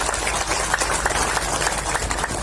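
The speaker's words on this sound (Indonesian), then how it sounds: "Tepuk tangan untuk Ibu Kepala BPOM" A crowd at a vaccination event applauds the head of BPOM with steady, dense clapping that carries evenly through the whole moment.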